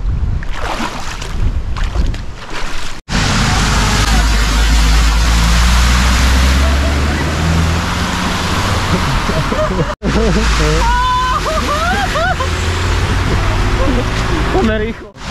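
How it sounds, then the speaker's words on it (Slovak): Water pours off a road during a heavy storm in Bulgaria, a loud, steady broadband rush and splash that holds for the whole stretch, with brief cuts and voices talking over it. "Tu nám oteká voda z cesty."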